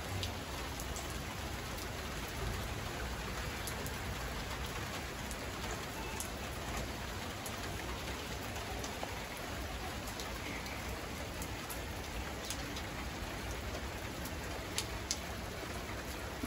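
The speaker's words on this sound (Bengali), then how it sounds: "বৃষ্টি হচ্ছে কিন্তু ঠান্ডা হয়নি, এখনো ওয়েদার গরম।" Steady rain falling on a rooftop terrace planted with dragon fruit, pomegranate and other plants, an even, continuous patter with occasional nearer drips and no voices.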